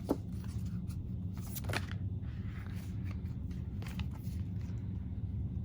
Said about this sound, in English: pull a Moonology card for you guys. Just gonna shuffle this.